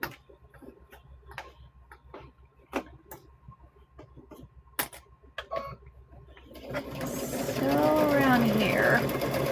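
A sewing machine stitches a welding hat, starting after a stretch of scattered clicks and a brief voice, then running steadily and loudly through the final few seconds.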